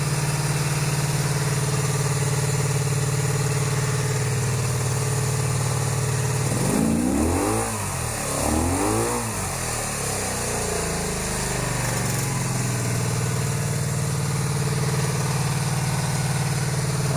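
A four-cylinder cafe racer motorcycle engine idles steadily and close by, its even mid-pitched rumble broken midway by a few brief throttle blips before settling back to a smooth idle.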